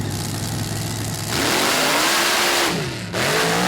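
The Bounty Hunter mud truck's engine roars loudly from idle into hard revving on its racing run, rising in pitch, dipping briefly, then climbing again close and powerful.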